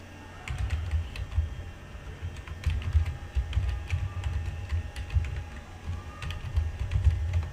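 Steady typing on a computer keyboard, a run of close, quick key clicks with brief pauses, no voices.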